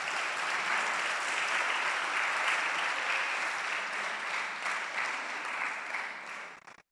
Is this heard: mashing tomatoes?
no